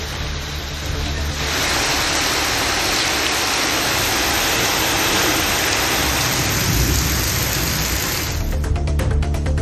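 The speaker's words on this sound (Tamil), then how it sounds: "ஜெயங்கொண்டம், புதுக்குடி உள்ளிட்ட பல பகுதிகளில் கனமழை பெய்தது" Heavy rain pours down in a steady, loud, dense hiss that fills the whole stretch, with a sharper spattering patter breaking through near the end.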